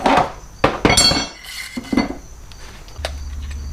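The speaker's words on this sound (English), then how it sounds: "Got me an assortment of cotter pins here" An assortment of metal cotter pins being rummaged through in a garage, sharp metallic clinks and rattles in several quick bursts, close and fairly loud, then a low hum underneath.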